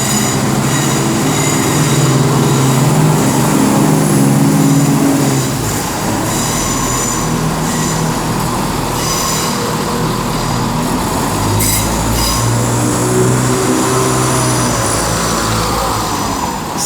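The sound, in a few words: cross-country train departing Birmingham New Street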